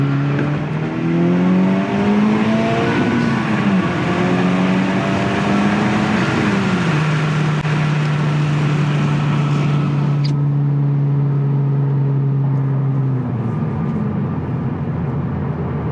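A Honda Civic Type R accelerates hard through the gears, its engine note climbing loud and close with a distinct shift around midway, then holding a high steady drone before easing off near the end.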